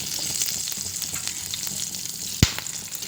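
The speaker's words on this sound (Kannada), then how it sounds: "ಸ್ವಲ್ಪ ಎಣ್ಣೆ ಹಾಕ್ಕೊಂಡು ಫಸ್ಟ್ ಮೆಣಸಿನ್ಕಾಯಿ ಫ್ರೈ ಮಾಡಬೇಕು." Green chillies frying in a little oil in a pan, a steady close sizzle with a sharp clatter partway through as they are stirred.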